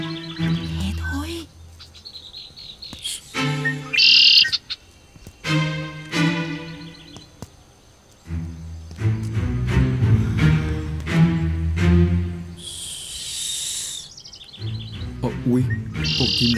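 Small birds chirp and tweet outdoors near a reed field, with repeated bright calls scattered through the scene while people talk quietly nearby.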